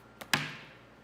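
Scissors snipping paper for a handmade vintage Valentine's card, two quick close snips, the second sharper with a short papery tail, in a quiet room.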